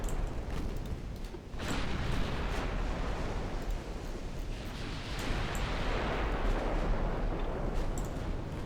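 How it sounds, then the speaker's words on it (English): A torpedo strikes a ship in a naval warfare game, giving a loud, sustained explosive rumble that swells sharply about a third of the way in and keeps roaring steadily, with no voices. "Oh, torpedo hit."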